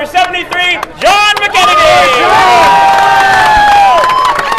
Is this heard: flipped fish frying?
no